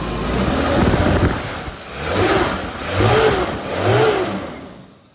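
A 1994 Suzuki Katana motorcycle engine idles close by, then is revved three times in a row, each throttle blip rising and falling smoothly before settling back, with no talking over it.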